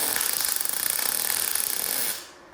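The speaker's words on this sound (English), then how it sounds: "See if I can weld that." Thin metal being welded, with a loud close crackling buzz that pulses rapidly and evenly for about two seconds before it cuts off, and no voices.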